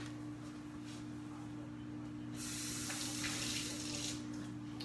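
Water runs steadily from a tap while a quarter cup is measured for blueberry sauce, a soft continuous rush that swells slightly louder partway through over a low background hum.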